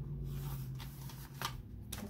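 A Christmas card is cut at a marked line, giving soft papery snips and rustles, close and quiet, over a low steady hum.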